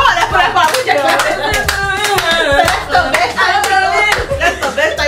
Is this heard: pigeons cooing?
no